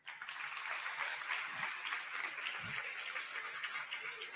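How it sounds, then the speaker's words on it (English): Steady applause from a crowd, a continuous wash of clapping holding at an even level for several seconds. "Then please give a round of applause for them."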